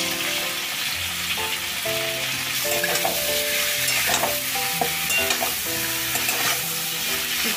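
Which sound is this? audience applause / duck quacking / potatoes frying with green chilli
potatoes frying with green chilli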